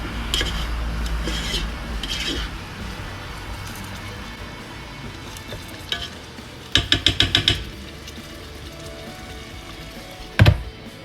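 Chicken curry being stirred in a pressure cooker, a steady scraping and rubbing of a utensil against the pot, with a brief burst of rapid clinks midway and a sharp knock near the end, no talking.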